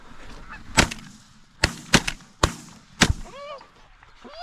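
Five sharp shotgun blasts ring out in quick irregular succession at Canada geese during a North Dakota hunt, followed by loud honking from the geese.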